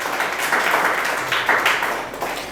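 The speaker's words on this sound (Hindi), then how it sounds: "जोरदार ताली भाई कर लिए" Loud clapping from a group, a brisk burst of overlapping handclaps close by, swelling and easing over a couple of seconds with no speech.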